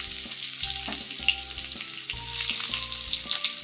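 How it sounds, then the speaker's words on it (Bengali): Chopped onions frying in oil with cumin seeds and bay leaves, producing a bright, continuous sizzle close up, with a low steady hum from a kitchen appliance beneath. "এবারে আমি পেঁয়াজ কুচানোগুলো দিয়ে দিচ্ছি।"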